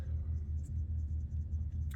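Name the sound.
truck interior rumble while driving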